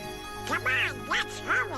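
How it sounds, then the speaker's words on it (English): Donald Duck's nasal, quacking cartoon voice in the Kingdom Hearts video game, three quick squawky bursts in a row over a low steady hum, close and distinct. "It's Donald Duck, my cousin."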